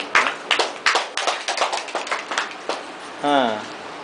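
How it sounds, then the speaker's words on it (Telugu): A group of students in a classroom clapping together in a quick, even rhythm for about three seconds, fairly close. A voice speaks right after. "మళ్ళీ క్లాప్స్ కొట్టారు మా అందరం."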